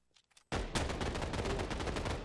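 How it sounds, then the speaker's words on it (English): Gunfire in the FF7FS tournament video game breaks out suddenly after a faint moment as a dense, loud burst of rapid shots that lasts to the end. "Couple of shots as punishment, though."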